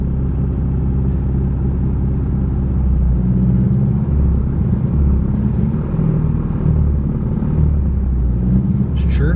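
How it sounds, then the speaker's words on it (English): A 1989 Ford Mustang, left sitting for years, runs at a steady idle after its first start, a loud, close, continuous low rumble with a faint voice under it. "There she goes."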